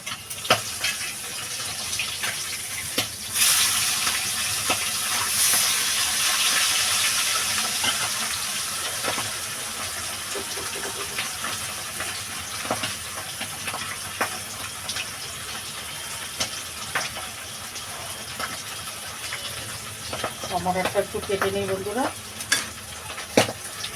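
Gagra fish frying in a pan for a potato and cauliflower curry, a steady sizzle throughout with occasional clinks and stirring scrapes, and a brief burst of louder spattering near the end.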